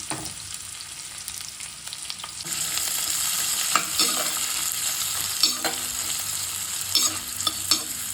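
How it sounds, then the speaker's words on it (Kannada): Onion, garlic and dried red chillies frying in hot oil, a steady close sizzle that swells after a couple of seconds, with scattered stirring clicks and scrapes over it and no talk. "ಆಮೇಲೆ ಈರುಳ್ಳಿ, ಬೆಳ್ಳುಳ್ಳಿ, ಒಣಮೆಣಸಿನ್ಕಾಯಿ ಇಷ್ಟು ಹಾಕೊಳ್ಳೋಣ. ಎಣ್ಣೆಲಿ ಫ್ರೈ ಮಾಡ್ಕೊಳ್ಳೋಣ."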